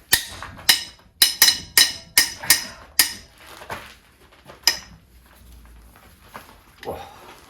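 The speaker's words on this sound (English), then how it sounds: "I'm just going to crack off these head bolts now" Sharp metallic cracks of a breaker bar with extension loosening tight cylinder head bolts on a Skoda Favorit engine, a rapid series of about eight loud clicks followed by a few scattered knocks and clanks nearby.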